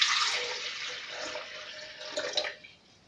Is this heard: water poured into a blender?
yes